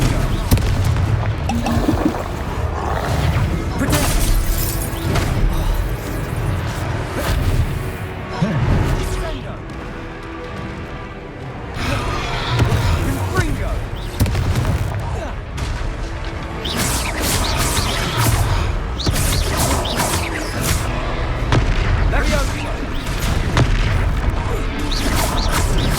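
Confringo spell blasts in Hogwarts Legacy, dense loud booms and crashes repeating over combat effects and music for the whole stretch.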